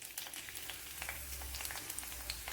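Garlic cloves dropped into hot coconut oil in a pan give a steady, close fizzing sizzle with scattered small pops and crackles, continuous and fairly quiet throughout, with no voices.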